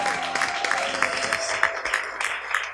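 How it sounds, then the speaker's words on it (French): Applause from a church audience welcoming a pastor to the stage, steady clapping throughout at moderate loudness with a faint tonal hum underneath, brief and continuous. "Est-ce qu'on peut le recevoir avec des acclamations?"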